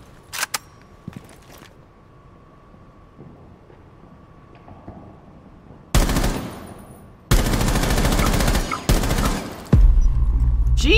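Rapid automatic gunfire in Rainbow Six Siege: after a few isolated early shots, loud sustained bursts of fire start midway and continue in long sharp volleys close by.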